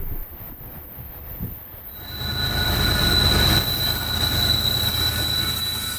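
A CSX freight train rolls past on the Chattanooga Subdivision, its wheels letting out a long, high, steady squeal over a loud rumble that swells in after a quieter start and holds to the end.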